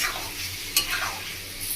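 Mustard paste is stirred into a sizzling fish curry with eggplant, the pan frying steadily under a quick scraping stir, close and brief.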